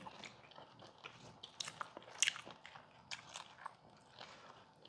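Close, faint chewing of food during a meal, with soft irregular crunches and bites repeating over several seconds and one sharper crunch midway, without talk.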